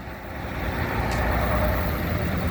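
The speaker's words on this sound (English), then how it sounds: "Oh, good old London bus." A Routemaster (RM) London double-decker bus at a bus rally, its diesel engine running with a steady, heavy low rumble close by, holding at the same level throughout with no voices.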